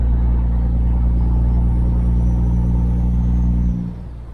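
Heavy truck engine rumbling steadily and loud at close range while driving through a snowstorm in hilly country, the low drone dropping off abruptly near the end as if easing off the throttle; no air brake hiss stands out.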